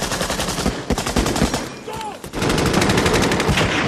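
Gunfire in a war film scene with German soldiers, rapid machine-gun bursts and dense repeated shots, loud and continuous apart from a brief lull.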